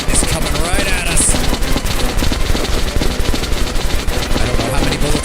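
Rapid automatic gunfire from a firefight in the video game Metro, a dense continuous barrage of shots that stays loud the whole way through, with a voice briefly audible underneath.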